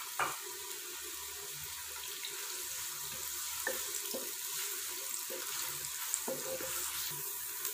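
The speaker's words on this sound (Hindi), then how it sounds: "प्याज को हल्का सा फ्राई करेंगे जी।" Chopped onions fry lightly in hot oil, a steady soft sizzle throughout with occasional faint clinks of stirring, heard close without talking.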